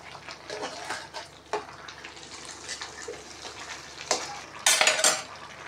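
Pea lentil dumplings (bori) go into a pan of cooking pumpkin stems with soft sizzling, scattered metal utensil scrapes and clinks, and a brighter clatter near the end.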